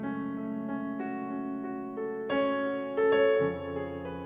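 A beginner plays the melody of Beethoven's Moonlight Sonata on piano, slow, even arpeggiated notes with a few louder melody notes standing out, played alone and fairly softly.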